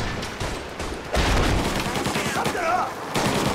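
Gunfire in the 1930s gangster game Mafia Definitive Edition: a rapid volley of sharp cracking shots with booming impacts, loud and continuous over a few seconds.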